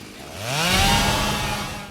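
A chainsaw in an Evil Dead film scene revs up, its engine whine rising and sustaining loudly before easing off.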